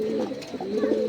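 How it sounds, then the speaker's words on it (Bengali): A male Maxi racer pigeon coos in a low, throaty, warbling phrase that wavers and dips, close and clear, over about a second. "টপ কোয়ালিটির একজোড়া মাক্সি রেসার কবুতর, এটা হচ্ছে নর, পিছনেটা হচ্ছে মাদি।"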